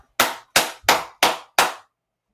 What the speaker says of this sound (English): Can you make a loud clap?